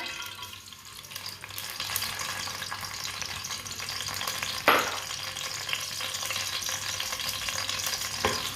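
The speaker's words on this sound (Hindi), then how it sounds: "प्याज को हल्का सा ब्राउन कर लेंगे।" A large chopped onion frying in about a cup of oil for Punjabi-style matar pulao, a continuous moderate sizzle with occasional stirring scrapes and one sharp clank near the middle.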